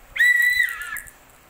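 Plastic toy whistle blown once, a sharp, high shrill tone lasting about half a second and then fading, close by with faint background noise.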